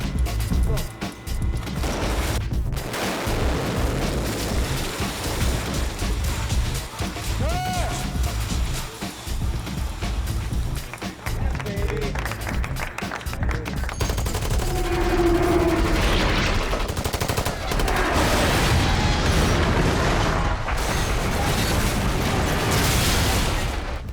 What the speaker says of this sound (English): That the explosions, the pipes that would flip up into frame, the debris that would fall